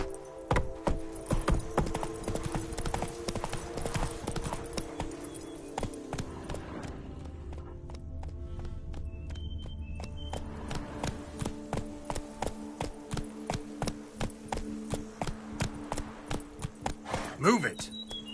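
Horse hooves clip-clop in a steady galloping rhythm in the video game Witcher 3, loud and close throughout, with game music and a voice urging the horse on over the hoofbeats.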